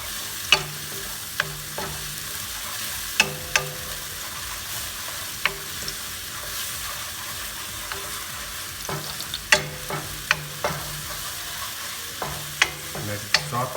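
Soy-based sauce for cauliflower Manchurian sizzles steadily in a pan, a continuous close frying hiss broken by repeated sharp clicks and scrapes of stirring, with no talk.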